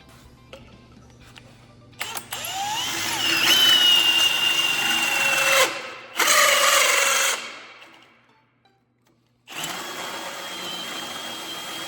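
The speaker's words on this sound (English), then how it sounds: "Now we'll hole saw that center out so that it slides over this." A hole saw cuts out the center of a metal part, grinding and whining in two loud bursts with a short pause between, then running again after a near-silent gap.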